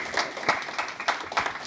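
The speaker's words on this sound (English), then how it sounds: "Give a big round of applause." Brief burst of audience applause at a talk, a crowd clapping in a rapid patter at moderate volume, quite short.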